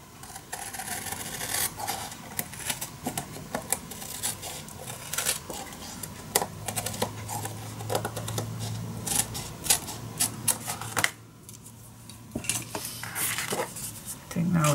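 Craft paper for a mini album is cut down with quiet, crisp snips and taps that come in irregular bursts against faint room noise.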